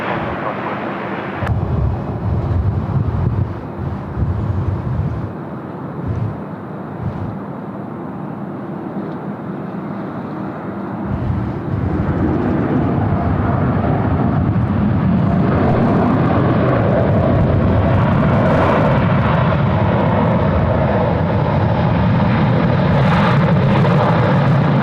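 An airliner lines up and takes off from runway 16 right at Sydney Airport. A low engine rumble is first broken by wind buffeting, then swells into a steady, loud, broadband jet roar that builds and holds without letup.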